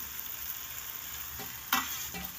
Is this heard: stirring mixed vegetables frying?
yes